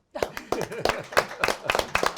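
Applause from a small audience, scattered uneven clapping close by that starts suddenly and continues in irregular bursts without speech.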